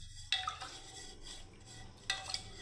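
A clay pot being washed, two sharp clinks of the pot a couple of seconds apart over a faint wet background, quiet and close.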